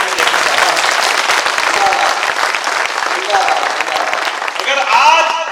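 Loud, dense audience applause fills a Hindi comedy poetry gathering, continuous throughout and swelling toward the end, with a voice briefly audible over the clapping near the close.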